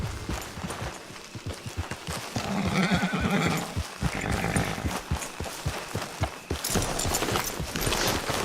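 A horse in Red Dead Redemption 2 whinnies clearly near the middle, surrounded by clip-clopping hooves and ambient game sounds, fairly close and prominent with no talking.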